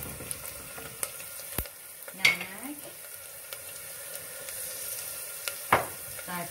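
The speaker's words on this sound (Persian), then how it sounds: "خب ابتدا پیازا رو نگینی سرخ کردم، داخل روغن میریزم تا پیازامون سرخ بشن" Diced onions fry in oil inside a traditional copper pot, a faint, soft sizzle broken by several sharp clinks and scrapes from stirring in a quiet room.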